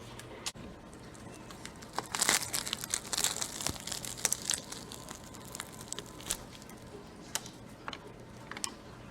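A crisp croissant crackles and crunches as it is torn apart, with flaky crinkling bursts and small ticks, close and fairly quiet.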